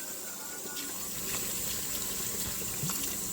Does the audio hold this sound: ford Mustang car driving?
no